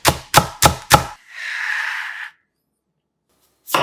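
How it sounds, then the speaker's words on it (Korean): A knife chops green onions on a cutting board in four quick, sharp, close strikes, followed by a longer scraping swish, then silence and one more knock at the end. "쪽파 약간 쫑쫑 썰어주고"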